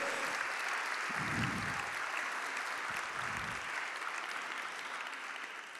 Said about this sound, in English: Applause to Matthew and Kyle.